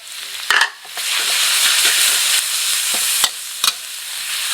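Tiny bird's eye chilies are stir-fried dry in a hot pan with a loud, close sizzle, and a utensil strikes the pan in a few sharp knocks.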